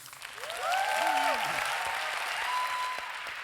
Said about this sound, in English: Huge round of applause for Emmanuel and L'Oréal.